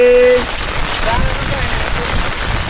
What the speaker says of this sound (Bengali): অনেক পরিমাণ বৃষ্টি হইতেছে একবারে